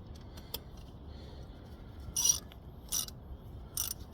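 Ratchet working on brake caliper bolts of a 2014 Scion xB: three short bursts of rapid clicking, separated by pauses, over a quiet low background.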